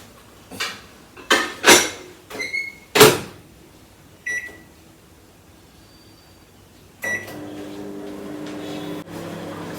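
A microwave oven heating Anglo-Indian pepperwater with mustard seeds: a few clattering clicks and short beeps, then the oven's steady low hum starts and carries on, close by and fairly quiet, with no one talking.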